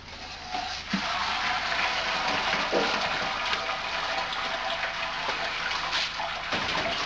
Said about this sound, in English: I've just finished the mash. I'm just about to sparge this fella.